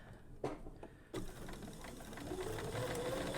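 A sewing machine stitches binding onto a quilt: a few short mechanical clicks, then a steady close whir that runs on and builds slightly in pitch and loudness.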